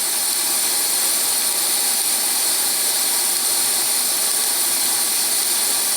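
A Coleman Exponent 550b single burner camp stove burning with a hot flame, giving a steady, loud, unbroken roaring hiss close up with no pauses.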